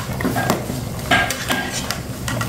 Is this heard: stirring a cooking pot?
yes